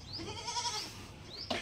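A goat bleats once, a faint wavering cry, followed by a short rustle near the end.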